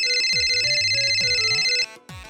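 A phone ringtone plays loudly and close by, a steady electronic melody with bright sustained tones over a rhythmic beat, cutting off abruptly near the end.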